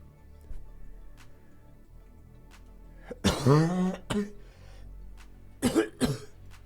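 A person coughs hard in a raspy burst, then coughs again twice a few seconds later, close to the microphone in an otherwise quiet room.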